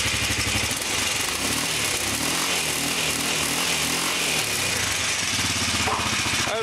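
A freshly rebuilt Kawasaki Brute Force four-stroke ATV engine idles steadily up close, a loud, even, throbbing drone with no voices over it.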